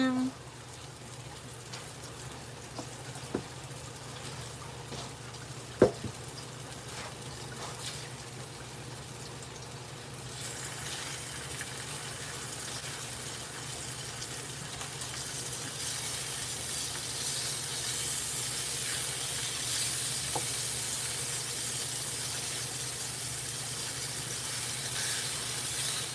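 Pork patties sizzle in a frying pan at breakfast, a steady hiss that grows louder and brighter partway through, with a couple of sharp clicks early on and no talking.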